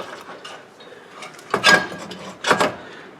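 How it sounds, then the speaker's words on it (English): A ratchet tightening the two front brake caliper bolts on a 2007-2011 Toyota Camry, with quiet clicking and then two louder bursts of metallic ratcheting close by, and no speech. "I'm just putting the 2 brake caliper bolts in that I took out earlier."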